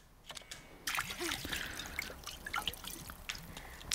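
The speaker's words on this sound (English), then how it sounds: "Just pour it all over that one hand." In Resident Evil Village: Shadows of Rose, a healing liquid is poured over a hand, giving close, wet splashing and dripping with scattered droplets, after a brief quieter lead-in with a voice.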